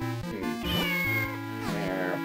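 A cat in The Legend of Zelda: The Minish Cap on the Game Boy Advance gives a clear, drawn-out meow, then a second rising meow, bright and upfront with no talking.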